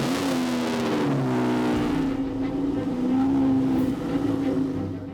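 A Lamborghini engine drones steadily and loudly at low revs for several seconds as the car creeps up onto a truck bed, the sound easing off toward the end.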